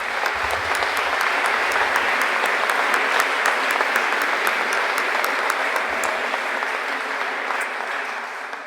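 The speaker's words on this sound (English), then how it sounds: "I'd like to give them a round of applause" A crowd at a graduation ceremony claps continuously in sustained applause, loud and steady, with a few louder claps standing out and no talking.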